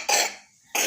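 A woman gives two close, loud coughs indoors, a harsh burst followed by a brief gap and then a second cough cut off at the end, with no speech over them.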